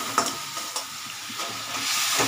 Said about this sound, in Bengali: বাঁধাকপি মা এবার মশলা ভাজছে